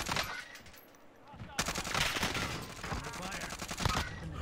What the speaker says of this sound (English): Oh my god, I'm getting sniped